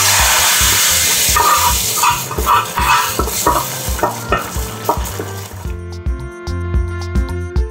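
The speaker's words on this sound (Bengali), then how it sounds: "আমার বাগারটা হয়ে গেছে। আমি এটা এখন ডালের ভিতরে ঢেলে দিব।" Hot bagar tempering is poured into dal cooked with egg and potato, raising a loud hiss with sharp spoon and pan clinks. Partway through, the sizzle cuts off abruptly and a thin tonal background remains.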